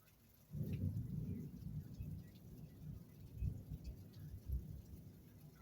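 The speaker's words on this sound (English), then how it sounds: "I hear thunder." Low rolling thunder rumbles in the distance during a rainstorm, a deep drawn-out roll followed by fainter grumbles, with a soft hiss of rain underneath.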